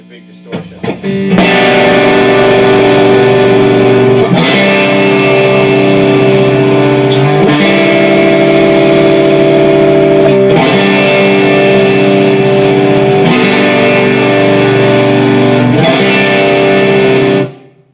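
Heavily distorted electric guitar played back from a Zoom R24 recorder, sustained chords ringing loud and steady for most of the stretch, with a few changes in the chord and no one talking.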